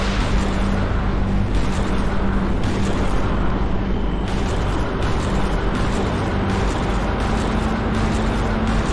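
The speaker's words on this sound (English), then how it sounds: "So the flak cannon has a nice meaty sound." Flak cannon in the space shooter Everspace 2 firing repeatedly, a dense, meaty stream of heavy booming blasts with a steady rhythmic pulse, loud and continuous with no talk.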